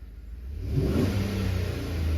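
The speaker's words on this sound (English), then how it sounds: "I'm gonna rev it up." The engine of a 2013 Chevy Tahoe with wiring and rust issues revs up close, its low rumble climbing and holding at a steady higher pitch.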